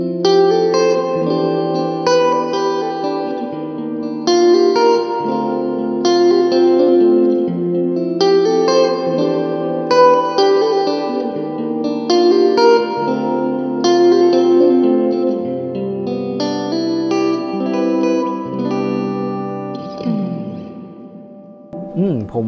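Electric guitar riff played through an Orange Crush Pro 60 amp with hall reverb: repeated chordal phrases with a washy, spacious tail that rings out alone at the end.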